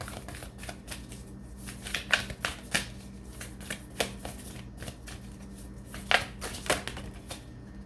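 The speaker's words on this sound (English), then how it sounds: "Let's get an oracle card for you guys." Oracle cards shuffled by hand close up, a steady run of soft riffles and papery slaps with sharper card snaps scattered throughout, no voices.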